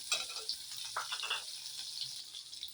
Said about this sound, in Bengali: ওই কাতলা মাছের তেলটা ভাজার জন্য আমি প্রথমে দেবো পেঁয়াজ আর কাঁচা লঙ্কা